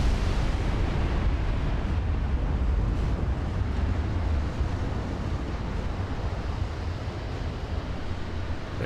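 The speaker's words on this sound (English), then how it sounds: "that 8-inch shell gun's got a few rounds left" Naval battle in Ultimate Admiral Dreadnoughts with 8-inch shell guns firing salvos, heard as a dense, continuous low rumble of booming fire and sea noise that stays loud throughout and eases slightly partway through.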